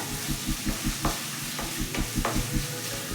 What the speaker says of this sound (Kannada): ಕೈ ಬಿಡದೇನೆ ತಿರುಗಿಸ್ಕೊತಾ ಇರಬೇಕು. ನೀಟಾಗಿ ಫ್ರೈ ಆಗುತ್ತೆ.